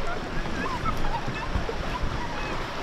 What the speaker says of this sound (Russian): Ух, как нас волны-то трясут.